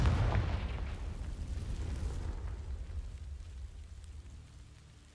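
A Confringo fire spell bursts in the Hogwarts Legacy video game, setting dry vines alight with a loud, boomy blast that rumbles and slowly fades over several seconds, heard with no talking.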